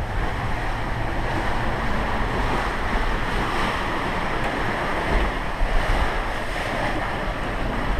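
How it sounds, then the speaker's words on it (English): Rough Caribbean waves slosh and crash continuously against a sailboat hull, with wind noise buffeting the microphone throughout and occasional heavier thuds. "Waves make such a difference."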